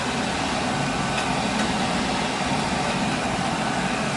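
A Taco circulator pump runs on a gas boiler fitted with a conversion burner, giving a steady, even broadband hum that holds unchanged from start to finish with no pauses.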